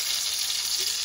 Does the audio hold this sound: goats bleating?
no